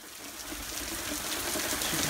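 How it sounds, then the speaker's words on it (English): Heavy rain pours steadily during a storm, a dense, even hiss of falling water that stays close and fairly loud, with no voices over it. "It's storming out pretty good right now. Thunder and lots of rain."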